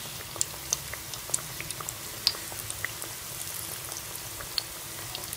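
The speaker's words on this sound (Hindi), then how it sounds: "हम इसमें डाल के थोड़ा थोड़ा सा जो है वो चिकन पकौड़े को फ्राई कर लेंगे" Chicken pakora pieces fry in a pan of oil, giving a soft, steady bubbling hiss with sharp little pops scattered through it, close and moderately quiet, with no talking.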